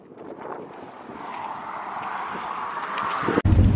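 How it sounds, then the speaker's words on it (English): Strong wind roars across the microphone on an outdoor walk, a steady heavy rumble that builds gradually and cuts out abruptly near the end. "You may not be able to hear me because it's super windy."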